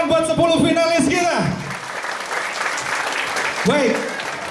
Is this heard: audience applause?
yes